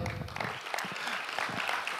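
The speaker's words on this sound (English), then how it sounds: "Round of applause for Leo." Conference audience applauds briefly at the Africa Blockchain Conference 2018, a short burst of scattered clapping from the room.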